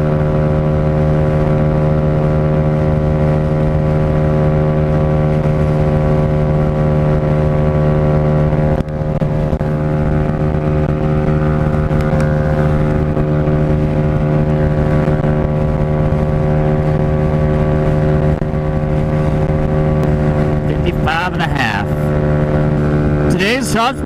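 A Honda Ruckus scooter engine drones loud and close while riding, a constant buzzing hum with wind rush that barely changes across the whole stretch.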